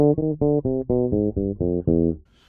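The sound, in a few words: bass playing a jazz line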